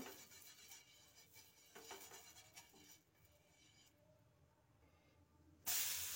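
Water sprinkled onto a hot, ghee-brushed tawa over a gas flame hisses softly for a few seconds, fading out before a sharp bright burst of sizzling near the end.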